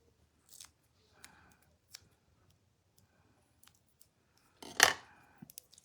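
Scissors snip through paper or cardstock on a tabletop during a card-making project, giving a few quiet scattered clicks followed by one louder, crisp cut near the end.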